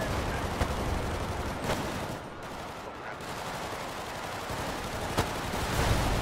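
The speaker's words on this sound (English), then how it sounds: "he's bombing the police station" Bombing of a police station in the GTA 5 video game, with repeated blasts and gunfire-like bursts forming a dense, loud barrage, a brief lull midway, then sharp cracks resuming.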